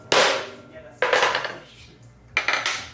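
A sharpened one-inch metal tube is struck with a hammer three times during a car brake repair, each blow a loud, close metallic clang that rings briefly and fades.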